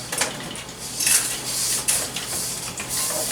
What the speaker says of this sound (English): you can take a towel, just a dry towel, and you can wipe off the inside of the skillet